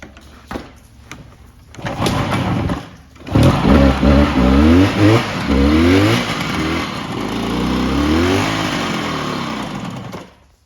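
A 1965 Suzuki S32 150cc two-stroke twin motorcycle starts up after a few quiet clicks, then idles and revs loudly and close, its raspy buzzing pitch rising and falling, with no talking.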